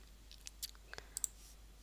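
Faint, sharp mouse clicks while working in After Effects on a 3D text swing animation, a few isolated taps scattered over quiet room tone with no talking.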